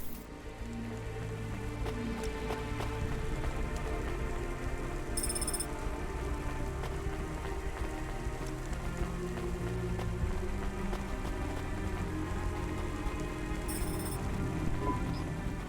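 Steady rain patters continuously over a city scene in the video game Cloudpunk, a soft, even hiss of drops with faint chiming blips twice, and no voices.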